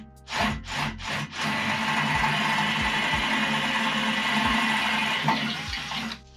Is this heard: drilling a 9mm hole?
yes